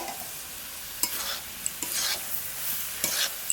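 Banana flower stir-fried with fried potatoes and eggplant in masala in a pan, scraped and stirred in a few distinct strokes over a steady low sizzle, close and fairly quiet with no talking.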